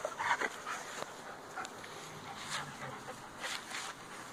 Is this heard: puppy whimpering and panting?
yes